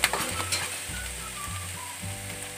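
Cabbage frying in a hot pan, a continuous close sizzle with stirring scrapes and a low hum running underneath.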